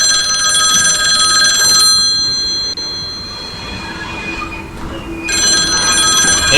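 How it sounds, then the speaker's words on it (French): A telephone bell rings loudly in two bursts, a long ring and then another after a pause, with the rumble and squeal of trains filling the gap between. "Le téléphone n'arrête pas de sonner."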